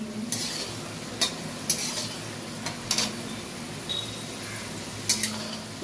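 Nimki made from dough of flour, salt and oil sizzles steadily as it deep-fries, while a utensil stirs it and makes a few sharp clinks against the pan; no one speaks.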